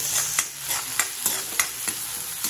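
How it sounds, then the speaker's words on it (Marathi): Chili chicken with green chilies frying over a high flame in a pan, with a constant hot sizzle broken by regular sharp scraping stirs about every third of a second, close up and without speech. "आणि लगेचच टाकते मी त्याच्यात तिखट मिरची आणि गॅस करते फास्ट"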